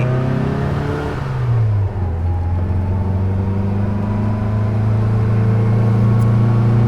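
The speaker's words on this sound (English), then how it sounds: "we're going to go up this hill in our powerful little 850" A 1966 Austin Mini Moke with its small 850 engine pulls up a hill in first gear, the engine droning loud and close with a steady hum that rises in pitch after a brief shift-like dip.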